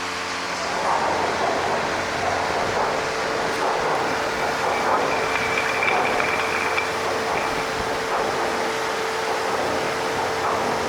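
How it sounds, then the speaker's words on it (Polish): A ship's anchor chain is hauled aboard into the chain locker, making a continuous mechanical grinding and rumbling drone with a steady whine, loud and close, with no voices. "No i łańcuch jest już wciągany do komory łańcuchowej."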